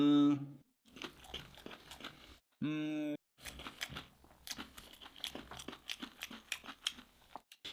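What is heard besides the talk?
crunching on fried fish while eating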